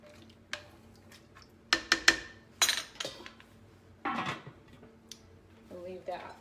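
Spoon stirring summer corn soup with fresh thyme in a pot, a few sharp clinks and scrapes against the metal in a quick burst, followed by someone talking nearby.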